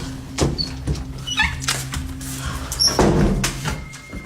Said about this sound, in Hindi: पास में कहीं से खटखटाने की कई आवाजें आती हैं